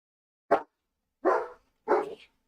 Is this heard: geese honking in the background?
no